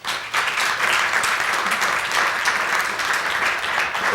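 An audience at the 2015 State of the City address in Salisbury, Maryland applauds the Salisbury Police Department with steady, dense clapping from a full room, sustained for about four seconds and rising slightly at the end.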